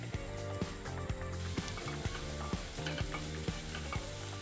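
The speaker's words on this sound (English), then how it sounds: "fry these ingredients for about 5 minutes" Chopped onions, garlic and chorizo fry in olive oil, with a steady close sizzle broken by regular scraping strokes of stirring, and no talking.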